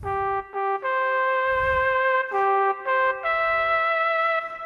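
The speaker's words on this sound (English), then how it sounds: "But right away, here's a flugelhorn." A synthesized flugelhorn tone plays a smooth, mellow melody of several sustained notes on an electronic keyboard, with soft key thumps underneath.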